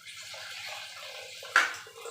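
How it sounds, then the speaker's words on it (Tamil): Water poured into a cooker while making mutton trotter soup, a steady gentle stream ending in a brief louder splash near the end. "ரெண்டு லிட்டர் தண்ணி ஆட் பண்ணிக்கோங்க."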